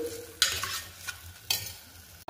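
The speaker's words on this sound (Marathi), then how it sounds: "अख्खे मसूर मी व्यवस्थित परतून घेते 1-2 मिनिटं ऍड केल्यानंतर।" Soaked whole masoor lentils sautéed in a pan for Maharashtrian masoor rice, with a steady low sizzle broken by a couple of sharp scraping stirs, close and moderately loud, no voices.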